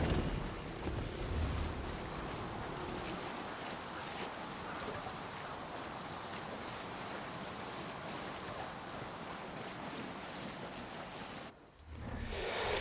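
A Viking longship under full sail on open sea in Assassin's Creed Valhalla, with a steady broadband wash of waves and wind that holds continuously and then briefly drops away near the end.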